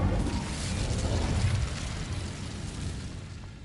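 An Incendio fire spell from Hogwarts Legacy whooshes and roars in a game, a loud fiery burst that peaks around the first second and a half before easing off into a steady crackling rumble.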